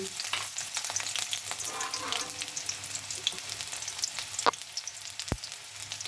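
Chopped onions sizzle in hot oil in a home kitchen, a continuous bright crackle with occasional stirring scrapes and one sharp clink near the end.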